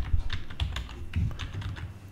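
Rapid typing of an email address and password on a computer keyboard: a quick, uneven run of crisp key clicks, close and fairly loud, with no voices.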